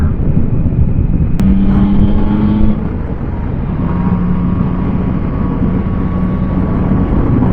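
A motorcycle rides along a famous road in Bosnia near Željava and Bihać on a warm day. Loud, continuous engine drone and wind rumble come from the rider's own bike, with a faint tone rising and settling as it shifts.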